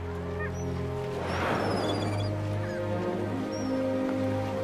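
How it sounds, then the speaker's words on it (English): Wintering long-tailed ducks (oldsquaw) on sheltered northern waterways call in a steady, nasal, yodelling chorus, many birds at moderate distance, with a louder cluster of calls near the middle. "Thousands of old squaw duck have migrated here from the polar north."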